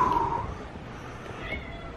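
A brief high, tonal meow sounds at the start, faint and somewhat distant, followed by quiet background noise.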